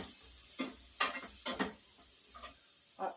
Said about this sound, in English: onions are caramelizing